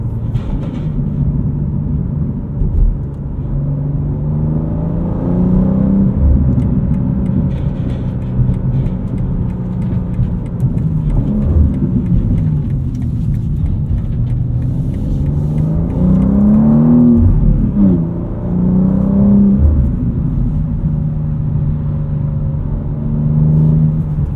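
Engine of a 2025 BMW M2 with a six-speed manual gearbox, a loud, close cabin drone that climbs and drops in pitch through several gear changes, with no talking.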